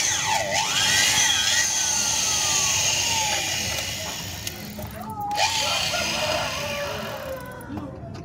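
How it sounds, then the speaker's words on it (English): A power drill with a 4 mm bit whines steadily and close for several seconds, drilling into a broken bolt, its pitch wavering as the bit bites, with a constant grinding hiss throughout. "So we are going to deal with this 4 millimeter drilling"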